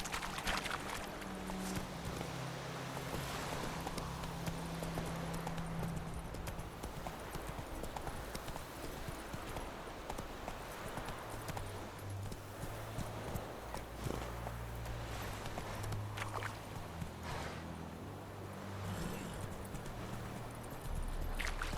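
Roach, Geralt's horse in the video game The Witcher 3, gallops with steady, continuous clip-clop hoofbeats over a low rumbling game soundtrack, loud and sustained throughout.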